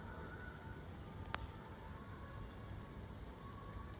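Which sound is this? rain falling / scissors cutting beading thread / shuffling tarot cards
rain falling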